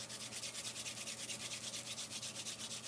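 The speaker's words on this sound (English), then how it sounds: "Rub the palms together again." Palms rub together steadily during a guided meditation, making a soft, close, rhythmic swishing that repeats in quick even strokes throughout, with no talking.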